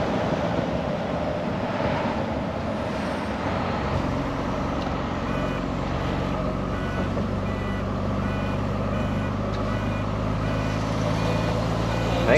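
An ERF EC11 truck drives along steadily, its diesel engine a constant low drone with road and cab rumble throughout, joined by a faint repeating electronic beep in the background.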